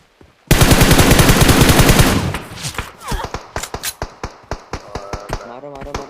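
Machine-gun fire in a PUBG match opens with a dense, loud burst of about two seconds. Several sharper single shots follow at a quick, uneven pace.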